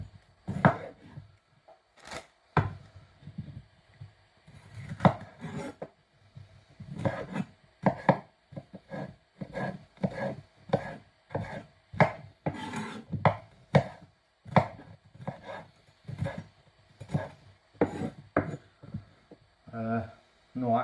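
Red pepper being chopped on a board for a Mediterranean sausage casserole, a steady run of close, sharp knife strikes in irregular bursts with brief pauses between them.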